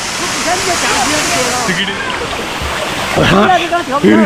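A hidden waterfall in Laos with cold, clear blue water gives a continuous rushing roar, while people talk close by over the constant splashing.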